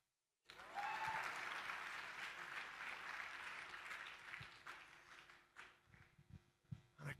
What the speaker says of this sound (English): The first, and clap the moment I say it